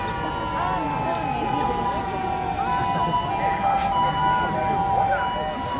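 Emergency vehicles, including rescue and ambulance units, drive out with wailing sirens at the 2019 Tokyo Fire Department New Year fire brigade parade, steady and fairly loud amid crowd noise and a public-address announcer talking throughout.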